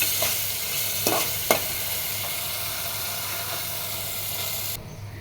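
Fish being sautéed and stirred in a frying pan, a steady sizzle with a few scraping strokes of a spatula, close and continuous, cutting out abruptly near the end.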